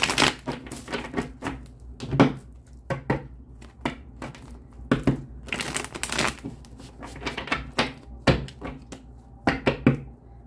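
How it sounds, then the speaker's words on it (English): Tarot cards are shuffled in repeated bursts of crisp riffling and slapping, close and fairly loud, with short pauses between each pass. "One more shuffle"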